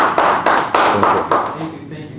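Hands clapping from an audience welcoming a guest at a startup talk event, a steady round of applause that rises in waves and then fades out toward the end, with no talk over it.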